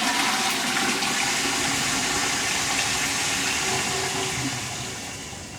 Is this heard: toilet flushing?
yes